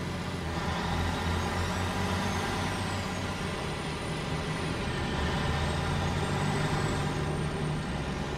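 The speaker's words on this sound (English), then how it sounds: "That's why I wanted a big truck." A heavy truck hauling a loaded trailer in the off-road driving game Snowrunner, a steady loud diesel drone with a low rumble, whining tones and hissing air, continuous throughout with no talk.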